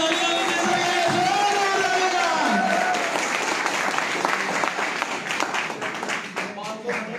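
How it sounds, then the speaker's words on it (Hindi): Audience applause at a business seminar, loud sustained clapping from a crowd that swells and then thins slightly, with a voice speaking over the start. "जोरदार तालियां दीजिए सर के लिए"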